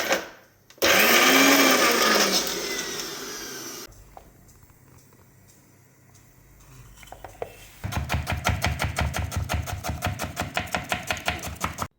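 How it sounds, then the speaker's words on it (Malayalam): A mixer grinder whirs loudly as it crushes dried red chillies, ginger, garlic, curry leaves and fennel, running in a long continuous burst, then falling quiet, then pulsing in rapid rhythmic bursts close by. "പിന്നെ കുറച്ച് ഇഞ്ചിയും വെളുത്തുള്ളിയും വേപ്പിലയും പിന്നെ പെരിഞ്ചീരകവും ചേർത്ത് മിക്സിയിൽ ചെറുതായിട്ടൊന്ന് അരച്ചെടുക്കണം"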